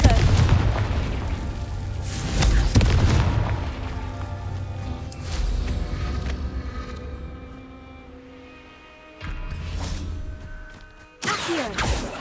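Repeated Confringo fire-spell blasts from Hogwarts Legacy boom out in several loud bursts amid game music and effects, with a spoken incantation shouted over the action.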